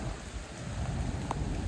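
Steady rain falls during a hunt, a dense, continuous hiss of drops close by with no voices, unbroken for under two seconds.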